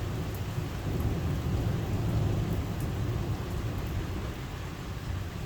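A thunderstorm with heavy rain: a dense, steady roar of downpour with a low rumbling undertone of thunder, continuous and fairly loud throughout.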